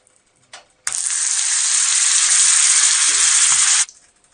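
Butter hits a hot pan as the gravy for a Punjabi egg masala curry begins, bursting into a loud, steady sizzle that holds for about three seconds and then stops abruptly, with a small clink just before.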